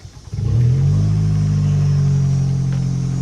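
At a towing auction, a vehicle's engine cranks briefly and catches, then settles into a loud, close, steady low idle rumble.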